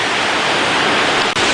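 A river in Patagonia near El Chalten rushes steadily close by, a dense, even roar of flowing water with no voices over it.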